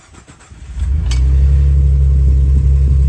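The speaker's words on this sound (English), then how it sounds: "So now I'm going to fire the truck up and test all the lights." A 2009-2014 Ford truck engine cranks briefly and catches, then settles into a loud, steady close-up idle rumble.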